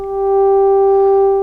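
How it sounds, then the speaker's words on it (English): Steady synthesizer sine tone, being shaped toward a voice-like sound for a patch, holds one pitch with faint upper partials, swelling slightly in volume and sustained alone without talk. "We want to change the sine wave a bit,"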